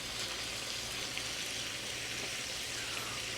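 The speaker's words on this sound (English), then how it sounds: "That thing's sizzling like a fajitas plate or something" Buldak spicy noodles sizzling hard in a hot pan, a dense steady crackle and hiss like a fajita plate, continuous and fairly quiet throughout with no voices.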